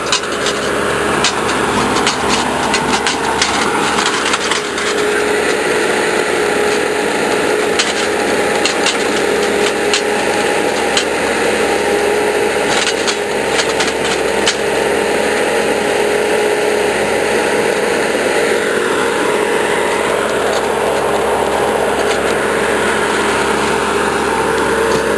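Ditch Witch trencher digging planting holes through old tree roots, a steady loud engine drone with continuous grinding and rasping of the digging chain, running without pause and close by.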